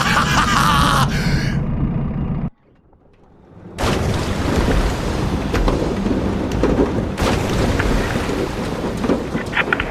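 A thunderstorm at sea in the video game A Fisherman's Tale brings loud wind and rain noise that cuts out briefly into near silence, then returns as a dense, heavy roar with rumbling lows.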